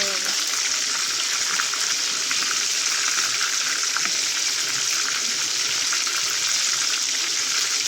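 Sliced papaya sizzles steadily in a frying pan, a dense, even hiss that stays close and loud without a break.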